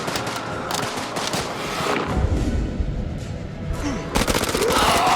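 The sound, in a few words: gunfire from the video game House of Ashes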